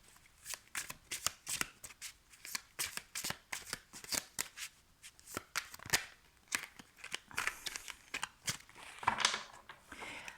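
A tarot deck is shuffled by hand in quick, repeated riffling bursts, crisp close card flutters coming in an uneven rhythm with short pauses between them.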